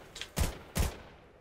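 Machine gun fire in the Fortnite video game comes as two short, sharp bursts about half a second apart, fairly quiet, with a faint click just before them and nothing else around.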